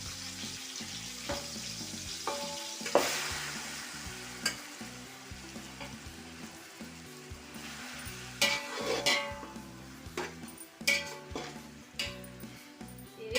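Chicken is being stirred in a pot with ground masala paste, making soft sizzling and frying sounds with scraping stirs and occasional clinks of the spoon on the pot. It is fairly quiet and close, with no talking.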